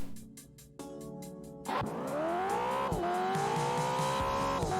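Car engine revving up in the racing video game Drift Stage, a steady rising whine with shifting pitch after a rhythmic idle burble, loud and close, with a tire squeal joining in.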